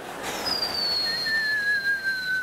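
A person whistles two long descending notes, one after the other, imitating birds, clear and close against a quiet background with no talk.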